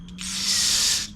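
Carburetor cleaner sprays into the carburetor of a long-stored Honda Harmony HRS216 push mower, a steady close hiss after a brief opening puff that lasts about a second and then tails off.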